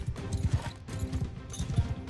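Horse hooves thud in the Bannerlord video game battle, a quick irregular galloping beat of low clops running under a busy background, fairly close with no talk.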